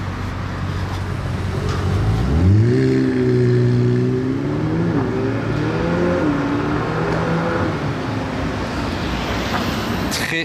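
McLaren 765 LT supercar accelerating past on a road, a loud engine note rising sharply in pitch and roaring by, then fading into background traffic noise.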